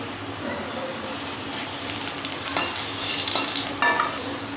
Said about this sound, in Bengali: এই পটল ভাজা তেলের উপরে দিয়ে দেবো গোটা জিরে।